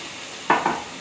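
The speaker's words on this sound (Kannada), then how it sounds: "ಇದು ಒಂದು ಹಾಫ್ ಬೇಯತಕ್ಕ ಫ್ರೈ ಮಾಡ್ಕೊಳ್ಳಿ." Vegetables for white sauce pasta fry and get stirred in a pan, a short quiet sizzle broken by two brief scraping stirs close by.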